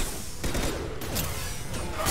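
Sustained gunfire rattles in the video game Mass Effect 2, a loud continuous fusillade of rapid shots with short bursts and breaks, without talk.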